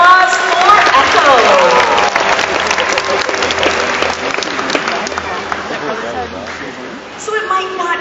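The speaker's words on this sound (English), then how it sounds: "How about a round of applause for Echo?" An audience claps for Echo, a red-tailed hawk, at a bird show in Chicago's Shedd Aquarium. Loud, dense applause fills the space and gradually thins out, with an announcer's voice running over it.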